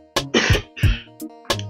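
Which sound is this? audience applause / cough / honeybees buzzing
cough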